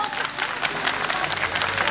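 A crowd applauds at an outdoor association picnic in Kemerburgaz Kurtköy, with dense, continuous clapping that is loud and close and fills the whole short stretch.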